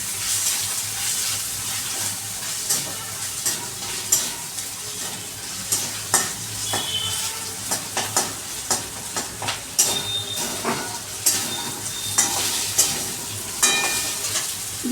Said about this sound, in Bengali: আদাটাকে আমি একটু পাশে একটু ভাজা ভাজা করে নিচ্ছি।